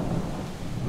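A brief burst of nighttime thunderstorm in Project Zomboid: loud, low rumbling thunder over a steady rush of rain, with no speech.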